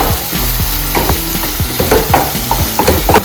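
Ginger and garlic fry loudly in a pan for an egg curry, a spatula scraping and knocking in quick, irregular strokes over a constant bright sizzle, close up with no voices.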